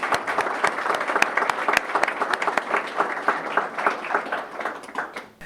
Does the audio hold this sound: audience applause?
yes